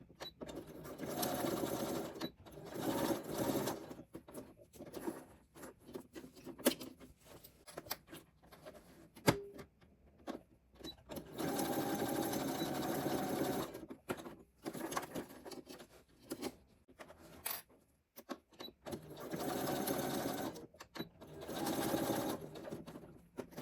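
A sewing machine stitches along the edges of a fabric book cover within the seam allowance, running in several steady bursts of rapid whirring separated by brief pauses, with a voice talking faintly at times.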